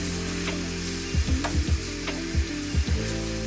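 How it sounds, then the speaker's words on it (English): Mushrooms with thyme and basil fry in a pan, giving a steady sizzle broken by several short scraping bursts of stirring in the second half. "Cook the mushrooms until the pan is almost dry."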